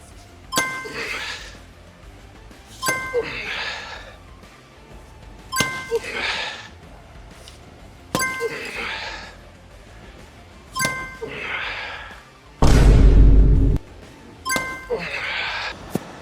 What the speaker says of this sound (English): 10-pound sledgehammer, impact window, 9/16 glass, already damaged. Let's see what happens.